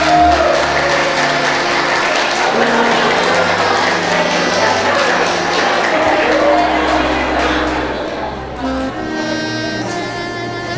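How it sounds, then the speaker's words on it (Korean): Wedding guests applauding in a hall during a Korean wedding ceremony, a steady broad wash of clapping that holds for most of the stretch before easing, with music and a voice faintly underneath. "하객 여러분, 다시 한번 축하의 박수 부탁드립니다."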